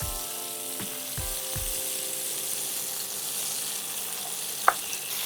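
Tomatoes fry in hot oil for a Bengali-style spicy eggplant curry gravy, giving a steady, close sizzle with a few clinks from a utensil against the pan.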